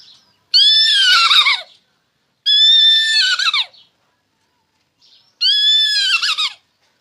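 A man imitates a mare neighing: three loud, close whinnies with falling pitch, each about a second long and separated by short silences.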